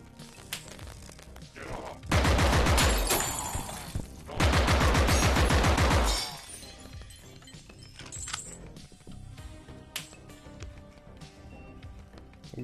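Two loud, dense bursts of assault rifle fire in the retro-style VR shooter Compound, each lasting about two seconds with a short pause between them, followed by quieter scattered clatter and game sounds.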